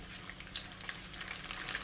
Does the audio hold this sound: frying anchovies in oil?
yes